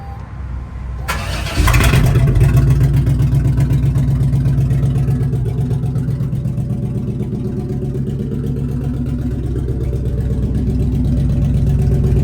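Ford OBS truck engine with a newly installed fuel pump cranks briefly, then catches and settles into a loud, steady idle close by, with a rough, leaky exhaust note and no talking.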